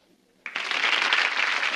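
A television studio audience bursts into applause on cue from a sign, starting abruptly after a short quiet and holding as a loud, even wash of many hands clapping.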